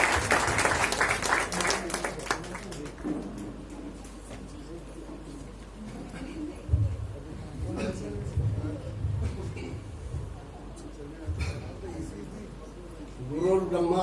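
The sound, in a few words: audience applause welcoming a speaker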